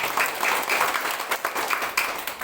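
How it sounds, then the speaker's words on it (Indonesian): A church congregation claps together during an Indonesian-language worship service, a dense patter of hand claps rising and falling in waves for a few seconds, fairly close and loud, with no speech over it. "Mari kita berikan tepuk tangan yang terbaik untuk Yesus"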